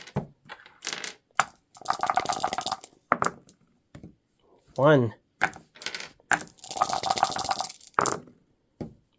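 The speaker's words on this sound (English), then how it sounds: "That's a lot of dice in there." Many dice rattle and clatter across a table in a Heroscape board game, several separate bursts of tumbling clicks spread over the clip, with a person counting aloud between the rolls.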